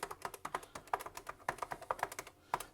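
Typing on the keyboard of a Kvant computer, a Belarusian machine built around an ergonomic keyboard: a steady stream of crisp key clicks at an uneven typing rhythm, close and fairly quiet, with no voices.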